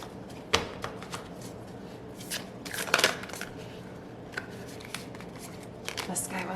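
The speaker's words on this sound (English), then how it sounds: "I'm shuffling." Tarot cards being shuffled by hand during a card reading, a run of close riffling and sliding bursts with a louder flurry near the middle, mixed with quiet talking.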